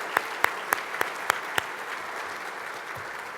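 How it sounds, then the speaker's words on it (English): Audience applause for council members at a city airports event, a crowd clapping steadily with a few sharp, close, individual claps standing out early before the applause thins and settles. "Can we offer all of them a round of applause?"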